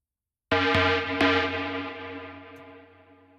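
Synth stab chords for a melodic techno remix, with distortion and reverb on them: a loud, bright chord hits and then rings out with a long decaying tail, and two short added hits come in during the sustain.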